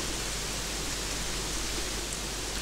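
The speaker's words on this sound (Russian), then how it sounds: "Такой сильный дождь пошел" Heavy rain pours steadily in Gothic 3, a dense, even hiss of downpour filling the scene without pause, loud and close with no other sounds rising above it.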